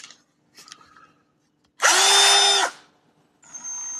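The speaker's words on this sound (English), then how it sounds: "this is a thrift store drill that was in new condition" A thrift-store variable-speed drill, plugged in, runs in one loud burst of just under a second, the whine holding steady before it spins down. Quieter handling clicks and rattles come before it, and a softer whir follows.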